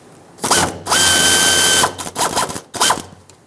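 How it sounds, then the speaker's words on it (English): A ratchet with an 8mm socket works loose the filler neck hose clamps on a 1999-2007 Ford F-350 pickup, giving close, loud clicking bursts, one long continuous run, then shorter quick spins. "You can use an 8mm socket and loosen them all up."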